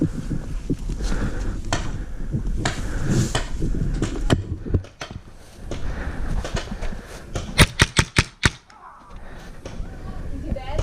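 Several sharp paintball shots crack from an MCS Blizzard magfed marker during a birthday-party game, a quick cluster of snaps late on after muffled movement and scattered voices.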